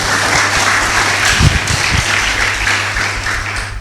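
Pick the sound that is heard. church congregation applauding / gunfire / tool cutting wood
church congregation applauding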